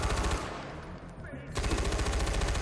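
Rapid automatic gunfire in the shooter game Far Cry 4, loud and close with a steady rattling rhythm, dropping briefly into a quieter stretch before the bursts resume at full volume; no voices.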